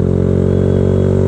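A Benelli 150 motorcycle engine drones loud and close in a brief, steady burst.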